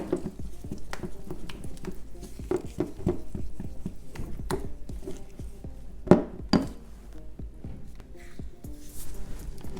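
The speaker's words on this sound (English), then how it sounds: "I'm gonna give that a very good mix." A spoon stirs chicken kebab marinade in a bowl, giving irregular clinks and taps against the dish and soft wet patter, with one sharper knock near the middle and no talking.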